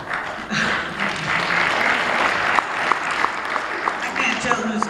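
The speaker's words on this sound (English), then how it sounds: "I can't tell who's clapping" An audience at a talk by a reverend breaks into applause, many hands clapping steadily after a quiet start, with sharper individual claps standing out and some voices mixed in.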